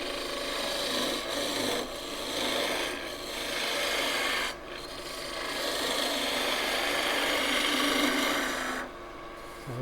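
A lathe-type machine running steadily at about 1800 rpm, producing a continuous broadband rasping, rubbing whir with slight dips in level, close and fairly loud, with no voices.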